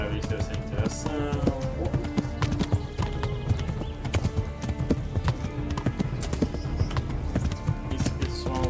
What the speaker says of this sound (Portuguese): o cavalo tá correndo bem